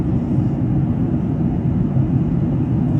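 Inside an airplane cabin in flight, a steady, heavy low-frequency drone of engine and airflow roars without letup. No voices can be heard.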